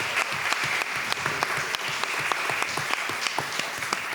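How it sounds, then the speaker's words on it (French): An audience at a talk applauds two fathers after their testimony, a dense, even wash of clapping with scattered sharper claps standing out, steady for the whole stretch with no voices. "Je vous demande d'applaudir"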